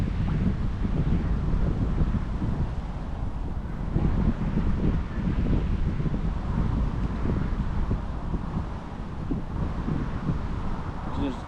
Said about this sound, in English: there's a strong wind blowing right into my face